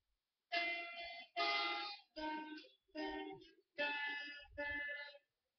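Guitar playing a chord pattern, six separate ringing notes or chords picked one after another with short gaps between them, soft and clear with no other sound.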